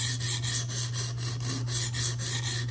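A Spyderco Police 4 knife in K390 steel being sharpened on a 140 grit stone, a close, rhythmic rasping of repeated strokes at a steady pace over a constant low hum.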